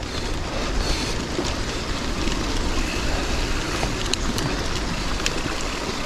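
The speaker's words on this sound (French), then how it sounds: "je vais vous montrer la rivière comme elle est en crue" Rushing water from a river in flood beside a mountain bike trail, a continuous loud broadband roar mixed with wind buffeting the microphone, with no voices.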